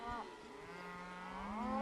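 Cattle on a ranch moo as cows pair up with calves being mothered up, with one short low call followed by a long rising, drawn-out moo, fairly close over light outdoor background.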